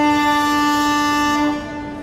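A Mumbai local train sounds a loud, sustained horn blast that holds steady for about a second and a half and then drops off, with no voices.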